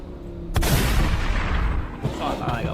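A flame-tuned Dodge Challenger's exhaust lets out a sharp, loud gunshot-like bang followed by a roaring rumble, then a second softer pop near the end, with voices talking over it.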